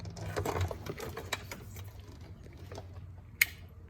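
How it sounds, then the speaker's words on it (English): A relay clicks inside a bus strobe light circuit: one sharp, close click near the end, set against a low hum and faint mechanical ticking. "strobe works. I can hear the relay click."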